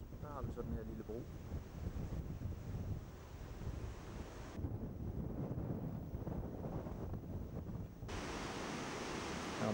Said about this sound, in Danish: Det blæser godt.